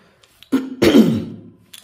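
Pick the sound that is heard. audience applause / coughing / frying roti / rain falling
coughing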